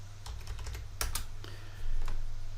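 Someone types on a computer keyboard in a short run of quick clicks, with a few sharper key taps, over a low electrical hum and no talking.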